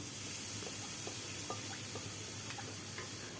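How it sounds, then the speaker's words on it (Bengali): Soaked, drained rice and eggs frying in a pan over medium heat for egg pulao, a steady close sizzle with faint scattered ticks of stirring, no voices. "চাল এবং ডিমটা দিয়ে এবারে খুব ভালো করে মাঝারি আঁচে সমানে নাড়াচাড়া করে ভেজে নিতে হবে"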